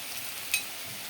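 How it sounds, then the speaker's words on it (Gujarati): Garlic sizzles steadily in hot oil in a pan, a constant close hiss with one brief tick partway through. "તેલ આપણું આવી ગયું છે તો આપણે એમાં લસણ નાખી દઈશું"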